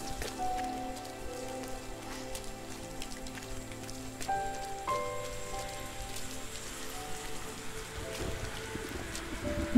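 Heavy rain in the game Rime: dense, steady patter of drops on surfaces, fairly close, with soft tonal ambient music notes drifting underneath.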